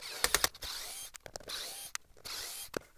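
Short bursts of close mechanical ratcheting and scraping come from screws being removed from the cable reel assembly of a Henry vacuum cleaner, in quick irregular clusters.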